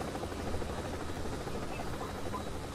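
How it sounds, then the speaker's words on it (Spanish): A helicopter in the mobile battle royale game Call of Duty Mobile makes a steady, low rotor drone that holds at a constant, moderate level throughout with no talk over it. "Me va a reventar el pinche helicóptero"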